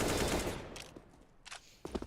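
AK rifle fire in a competitive esports shooter match, heard as a loud initial burst followed by a few short, sharper shots spaced out over two seconds.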